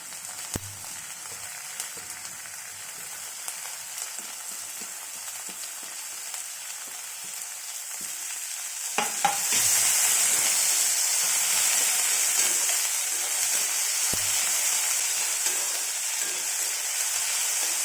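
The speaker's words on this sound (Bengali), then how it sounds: "পেঁয়াজটাকে লাল লাল করে ভেজে নেব" Chopped onions sizzle in hot oil in a pan with ginger and garlic while cooking for dahi bhindi. A steady close frying hiss swells noticeably louder partway through, with no voices.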